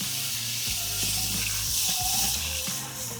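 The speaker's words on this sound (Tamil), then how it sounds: "புளி தண்ணியே இப்போ ஊற்றிக்கலாங்க." Tamarind water is poured into horse gram rasam bubbling in a hot clay pot, giving a continuous loud sizzle and hiss with a low bubbling underneath and no talk.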